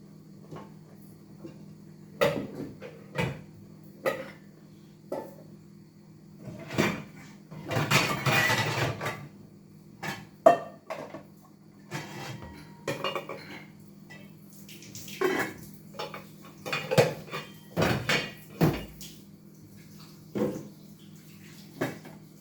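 A cooking pot being fetched in a kitchen, with scattered metallic clanks and knocks of pots and pans over a steady low hum, plus a longer rattling burst midway.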